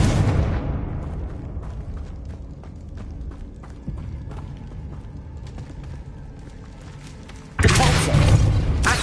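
A Confringo spell explosion in Hogwarts Legacy begins as a loud boom and fades into rumbling debris with scattered thumps, then a second loud burst hits near the end.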